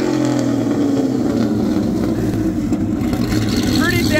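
A loud Cadillac Escalade engine rumbles and revs steadily nearby at a car meet, a deep continuous roar filling the whole moment.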